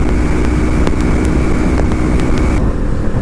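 A Kawasaki Ninja 400 motorcycle's engine runs loud and steady, a dense continuous drone with rushing wind noise, easing slightly toward the end.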